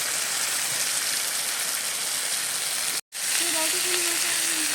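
Fish pieces dropped into hot, sizzling spiced oil in a pan for a Bengali fish curry, a steady loud hiss and crackle with a brief gap, then a voice speaking faintly over the frying.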